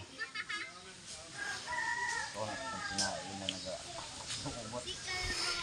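A rooster crows and chickens cluck nearby while people talk in the background, with occasional rustling and bird calls.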